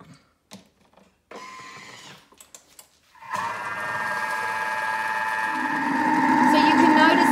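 A kitchen stand mixer starts up on speed 4 mixing playdough, a steady mechanical whir that grows louder and denser, after a few short clunks and brief sounds of handling.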